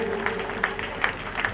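An audience at a Shrimad Bhagavat Katha gathering claps in thanks for a donor, a soft, steady patter of many hands with a few louder bursts, a voice faintly present beneath.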